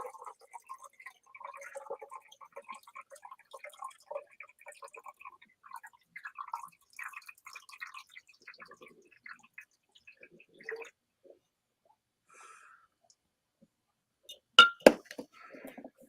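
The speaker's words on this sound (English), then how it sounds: "I will pour the settled salt water back into the original reaction jar so that it will start making some more." Settled salt water is poured back into a glass reaction jar as a faint, thin trickle with soft clinks and drips, ending in a few sharper glass knocks.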